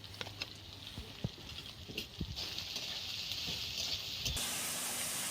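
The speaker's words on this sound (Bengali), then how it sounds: "এবার তেলের মধ্যে পেঁয়াজটা দিয়ে দেবো, হাফ মতন ভেজে নেবো পেঁয়াজটা" Sliced onions dropped into hot oil for a Bengali egg curry, a soft steady sizzle and hiss with scattered small pops, fairly quiet and close, rising slightly as the frying settles in.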